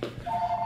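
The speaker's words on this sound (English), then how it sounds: "Phone is ringing." A telephone rings in a home salon, a steady electronic tone sounding for about half a second after a short low thump, moderately loud and close by.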